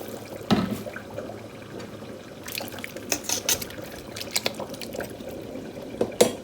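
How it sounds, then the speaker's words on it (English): Water poured into a cooking pot of bitter leaf soup with stockfish and beef makes a faint, uneven trickle and splash, with light clinks of the pot in a quiet kitchen. "So I'm going to add water to it."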